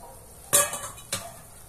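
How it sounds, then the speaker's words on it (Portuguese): Marinated beef returned to a hot pan with sauce, two sharp utensil scrapes against the pan about half a second apart over a low steady sizzle, close and without talk. "Vamos voltar a nossa carne para a panela"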